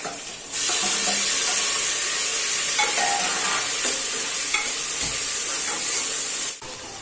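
Tomato pieces fry in a pan of coconut-milk biryani base, giving a steady, close sizzling hiss throughout, with occasional soft scrapes and knocks as the mixture is stirred.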